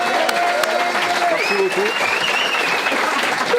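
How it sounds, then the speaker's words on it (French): An audience applauds with a continuous, loud wash of clapping throughout, while a voice speaks over it. "Bon, bravo, on peut l'applaudir en tout cas."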